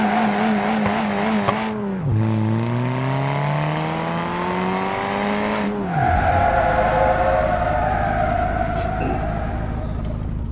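A 5,800-pound D-series truck in BeamNG launches hard from a standstill for a 0 to 60 run, its loud engine climbing through rising revs with sharp drops at each gear shift, then a brief tire squeal and settling rumble.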